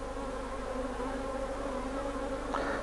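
Honeybees buzzing in a steady, dense drone around an opened hive during an inspection of a troublesome swarm, close and continuous, with a brief louder pass near the end.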